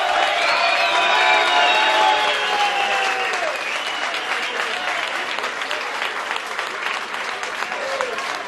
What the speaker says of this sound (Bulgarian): Дора Михайлова, искам аплодисменти за нея!